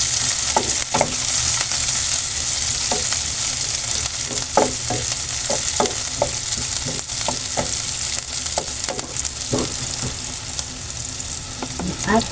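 Onions sizzle and fry in a hot pan for sarciadong galunggong, with a steady sizzle under repeated clicks and scrapes of stirring. The sound is close and has no talk.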